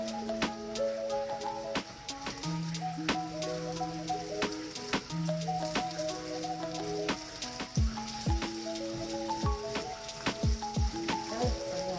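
Eggs sizzle unseasoned in a frying pan for a quick breakfast, a steady close crackle with scattered sharp pops and ticks and no talking.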